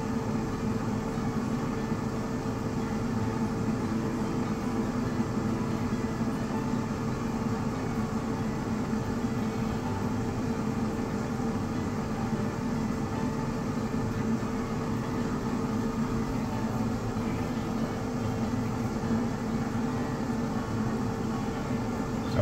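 Steady hum of an air fryer running at 400 degrees while cooking sweet potato fries, a constant fan whir with no variation in level, heard alone throughout.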